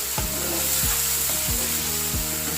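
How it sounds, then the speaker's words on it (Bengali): Spice paste sizzling steadily as it is sautéed for Bengali fish kalia (macher kalia), with a constant loud fry and four rhythmic stirring scrapes spaced evenly through the pan, no voices. "মশলাটাকে ভালো করে কষতে হবে"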